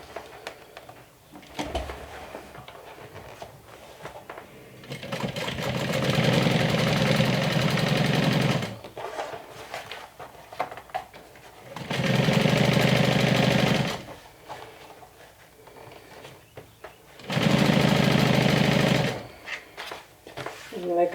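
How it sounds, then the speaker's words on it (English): A sewing machine top stitches a seam on a medium-size crossbody tote in three sustained runs, each a few seconds long, with quieter handling and low background noise between them. "I'm going to go ahead and top stitch this"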